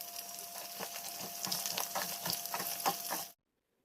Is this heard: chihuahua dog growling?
no